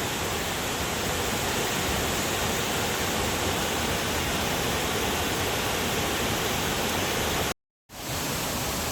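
A waterfall beneath the historic Columbia River Highway in Oregon: a dense, steady rushing roar of falling water, loud and unbroken except for a brief dropout near the end.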